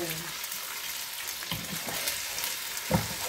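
Tofu dropped into hot oil in a home kitchen after shrimp, giving a steady low sizzle with a few louder spits and pops, the loudest near the end.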